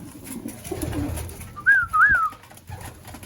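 Racing pigeons returning to the loft give a short pair of soft, wavering coos over quiet background rustling and low ambient noise.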